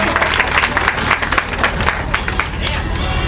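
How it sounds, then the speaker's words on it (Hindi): Loud, dense applause from a gathered crowd of villagers honouring a local girl who topped her exams, steady sharp clapping throughout with a faint murmur of voices underneath. "एक बार जोरदार तालियां हो जाए प्लीज अंजलि के लिए"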